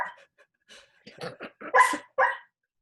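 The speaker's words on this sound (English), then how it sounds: "My dog is having a nightmare, if you can hear that." A sleeping dog whimpers and gives soft muffled barks during a nightmare: a string of short yips and whines in irregular bursts that grow a little louder toward the end, close by, with no talking.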